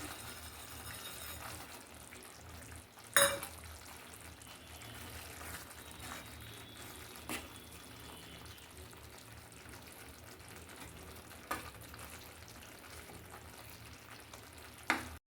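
Gathiya being tipped into a pan of cashew gathiya sabzi, a faint continuous sizzle under a low hum, with a couple of brief louder knocks from the bowl or spoon against the pan.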